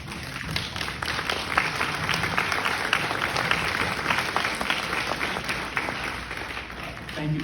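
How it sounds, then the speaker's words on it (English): Mourners at an obituary service for Elmer "Teddy" Murray clap together in sustained applause, a dense patter of hand claps that holds at a moderate level for several seconds without a break. "The applause was come a little later, but thank you."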